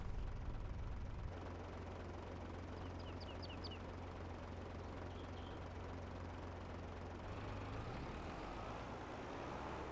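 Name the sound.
tractor engine running in video game Farming Simulator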